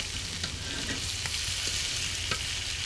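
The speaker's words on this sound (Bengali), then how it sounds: "মাছ ভাজি করছি দেখেন আসলে তাজা মাছ ভাজি খেতে খুব ভালো লাগে" Fish sizzles steadily in hot oil in a pan for a home-cooked meal, a continuous close crackle with a few sharper pops and no voices.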